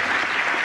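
Steady, dense applause from a political audience, with Vice President Al Gore and Daschle among those clapping, a continuous wash of many hands at moderate loudness with no voices.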